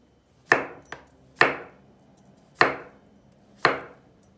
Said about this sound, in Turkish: Önce patateslerimizi halka halka doğruyoruz